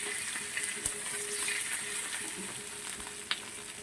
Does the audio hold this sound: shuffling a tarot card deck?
no